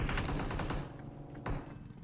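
Rapid automatic gunfire in the battle-royale game BGMI rattles loudly at first, then drops off into quieter scattered noise with one more sharp shot near the end.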